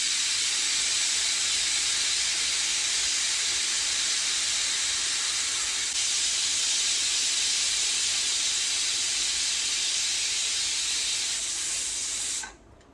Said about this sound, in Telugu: ఇప్పుడు కుక్కర్ మూత పెట్టేసి 4 విజిల్ వచ్చేంత వరకు ప్రెషర్ కుక్ చేయాలి.